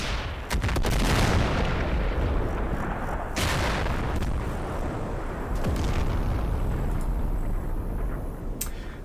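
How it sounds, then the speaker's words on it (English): Mortar rounds and explosions boom and rumble in the Combat Mission tactical war game, with heavy low blasts, sharp cracks and scattered gunfire over a continuous battle din; no speech. "So they're calling in mortars on the dismounted vehicle."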